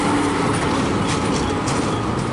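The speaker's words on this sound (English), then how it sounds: "We've got a train coming over the top of the new bridge." A modern high-capacity suburban train on the Cranbourne line crosses a newly built rail bridge overhead, giving a steady, broad rumble and roar that holds at a constant level for the whole stretch, with no talk over it.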